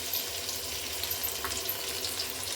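Mustard seeds, onion and curry leaves fry in a hot pan, giving a steady, close sizzle with light crackles that continues without a break and has no voices over it.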